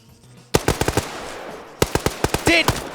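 Automatic gunfire in a PvP video game match: two loud, close bursts of rapid shots, each a quick string of sharp cracks separated by a short lull, with a faint voice at the start.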